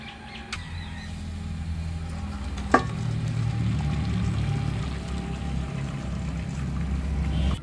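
Boiled noodles for homemade vegetable chow mein get rinsed under cold running water, a steady rushing pour with a single brief clink partway through.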